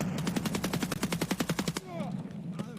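Rapid burst of about fifteen DTMDR rifle shots in Escape from Tarkov on the Shoreline map, loud and evenly spaced, cutting off abruptly and followed by a faint tail and brief voice sounds.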